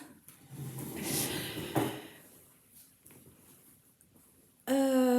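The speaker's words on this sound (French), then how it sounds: "Attention, je vais faire un bruit de chaise." A chair scrapes and knocks on the floor in a room where shawls are being knitted, with a few wooden bumps and shuffles, then a sudden loud tonal burst at the very end.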